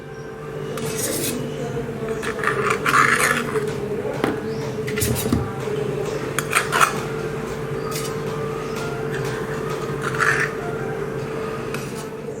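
Freshly steamed rava idlis lifted out of metal idli plates in a home kitchen, with intermittent clinks, scrapes and soft knocks of utensils against steel over a steady low hum.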